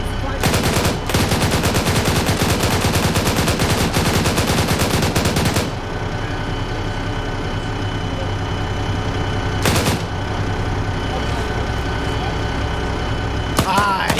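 Rapid automatic gunfire in a video game, a loud sustained burst for several seconds followed by a steady rumbling drone with occasional isolated shots.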